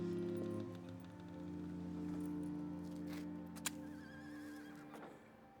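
Horse neighing in the Red Dead Redemption 2 video game, a long, drawn-out whinny with wavering pitch up close, followed by a sharp knock and soft hoof sounds.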